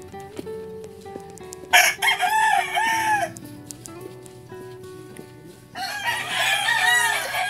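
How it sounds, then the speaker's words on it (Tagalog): Roosters crow loudly among many chickens, two long crows rising and falling close by with a steady barnyard hum between them. "Ang dami pa ring manok."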